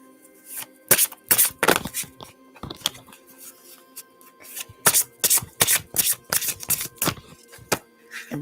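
A new tarot deck is shuffled by hand, sharp papery riffles and bursts of card slapping in irregular clusters, close and crisp against a quiet room.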